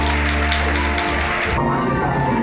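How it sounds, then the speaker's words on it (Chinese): Dense crackling applause at a wedding banquet, a steady pattering wash of many clapping hands filling the room, loud and continuous, with a low hum and some background voices underneath. "掌声鼓励"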